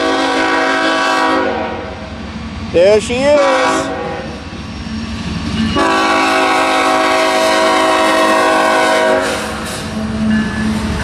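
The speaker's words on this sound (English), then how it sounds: "It's a hopper train." A BNSF hopper coal train passes and sounds its horn in long, loud, sustained blasts over heavy rolling rumble and wheel noise; a person speaks briefly.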